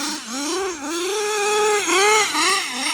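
Revving loudly and alone, an HPI Trophy Truggy 4.6cc nitro RC car engine wails high and buzzy, its pitch swooping up and down in repeated bursts as the throttle is blipped.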